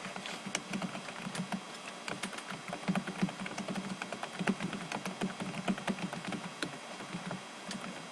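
Typing on a computer keyboard produces a continuous, fairly quiet patter of quick key clicks at an uneven rhythm, with no voices.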